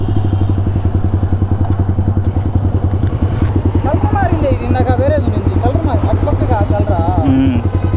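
A modified Yamaha R15 V3 motorcycle with an aftermarket exhaust rides through town, its close, loud, rapid exhaust pulses burbling steadily throughout while a voice talks over it.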